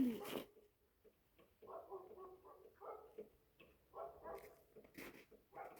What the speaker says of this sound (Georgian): ძაღლები.